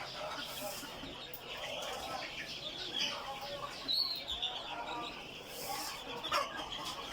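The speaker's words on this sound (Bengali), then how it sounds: "এগুলা আমাদের কোয়েল পাখির বাচ্চাগুলা" Young quail chicks peep and chirp in soft overlapping calls, fairly close in a small enclosure, with a constant background hiss and occasional louder tweets.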